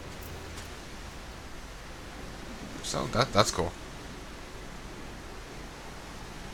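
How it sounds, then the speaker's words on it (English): Wind in the video game Final Fantasy XIV gives a soft, steady rushing hiss that holds evenly from start to finish, broken midway by a brief spoken remark. "The wind."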